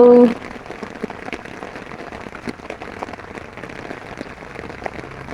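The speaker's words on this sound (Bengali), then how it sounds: "বৃষ্টির শব্দ শোনেন অনেক চমৎকার" Steady rain patters across a water lily marsh, a dense, even hiss of drops on water and leaves that runs close and continuous throughout.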